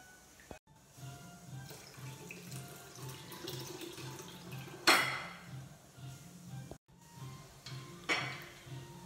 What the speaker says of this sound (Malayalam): ഈ ജാറിലേക്ക് തന്നെ ഞാൻ കരിക്കിൻ്റെ വെള്ളമാണ് ഒഴിച്ചു കൊടുക്കുന്നത്